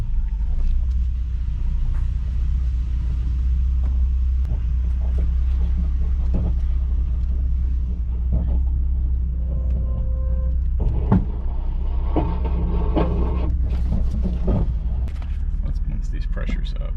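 A car out on a test drive on newly installed air suspension bags, with a constant low road rumble and engine drone, scattered knocks and clunks, and a person talking over it.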